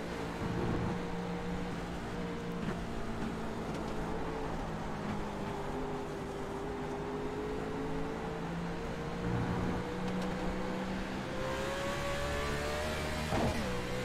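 A NASCAR race car engine in the iRacing simulator drones loud and steady throughout, its pitch slowly climbing and dropping through downshifts and revving, with no voice over it.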